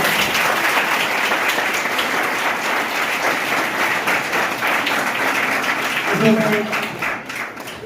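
A room full of students at a government school quiz competition bursts into steady applause after a correct answer, clapping loud and sustained before thinning out near the end, with voices mixed in.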